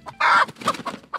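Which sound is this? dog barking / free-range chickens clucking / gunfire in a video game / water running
free-range chickens clucking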